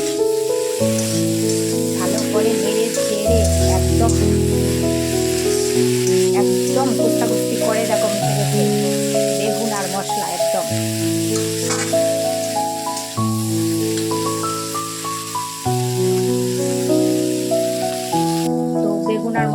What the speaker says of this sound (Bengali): ঝকঝক করে ঢেলে দিচ্ছি এক এক করে বেগুনগুলো